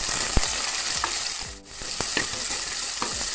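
Sliced onion and slit green chillies fry in hot oil for a river-fish curry, a steady close sizzle with a few sharp stirring clicks and a brief dip midway, no talking.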